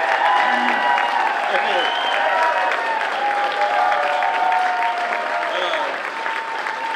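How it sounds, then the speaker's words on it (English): Loud crowd applause and cheering at a campaign watch party for a candidate, filling the room for several seconds, with voices and whoops mixed into the clapping. "that applause for my family wasn't long enough. Let's do it again"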